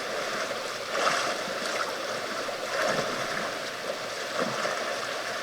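Water sloshes and splashes around a swimming character in Sons of the Forest, a steady wash of gentle surges that rise and fall every second or two, with no talking.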